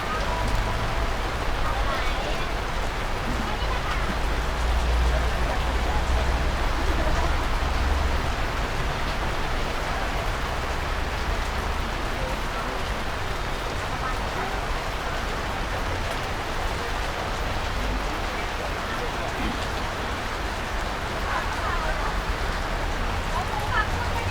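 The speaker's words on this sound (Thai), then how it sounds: "ขนาดฝนตกนะครับ ลูกค้ากำลังไหลเข้ามาถ้าฝนไม่ตกเนี่ย" Rain falls steadily outside a durian shop selling Rayong Monthong durians, an even wash of patter and hiss throughout, fairly loud and close with no distinct voices over it.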